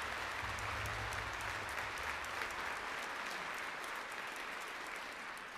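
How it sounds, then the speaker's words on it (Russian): Sustained applause from a large audience at a percussion festival, a dense, even wash of many hands clapping at once, steady throughout. "Я думаю, это достойно аплодисментов."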